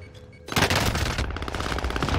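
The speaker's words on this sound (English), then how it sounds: "I'm getting shot out by someone else" Intense rapid gunfire in a battle-royale shooter game, a sudden dense burst of automatic shots that keeps rattling loudly to the end, with no talking.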